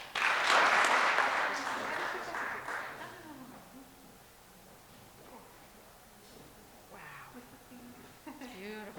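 Audience applause following a speech at a program of talks and performances, loud clapping at the start that fades over a few seconds, then a quieter room with a voice speaking near the end.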